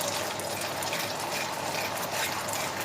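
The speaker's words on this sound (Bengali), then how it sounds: "টক দইটা ভালো করে হয়ে গেলে তারপর আমি গরম জল অ্যাড করব।" Hot water poured into a pan of sour yogurt for a cauliflower curry, a steady rushing splash lasting a few seconds, close and fairly loud with no talking.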